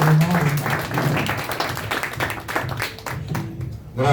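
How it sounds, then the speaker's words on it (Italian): An audience claps at a commemoration of the Beslan massacre held in Verona, a sustained, fairly close round of applause that thins out toward the end, where a voice briefly returns. "facciamo un applauso a Ennio"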